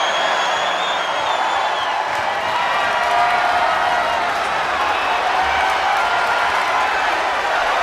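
Roaring arena crowd in the wrestling video game WWE 2K22, a loud, dense, unbroken wash of cheering and whooping, with a commentator talking over it.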